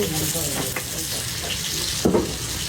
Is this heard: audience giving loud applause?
no